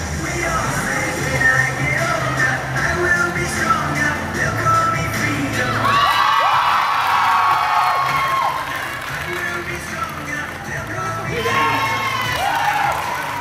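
Children cheering and shouting at a freestyle football trick show, a lively crowd roar with excited whoops and squeals rising in bursts, scattered clapping mixed in.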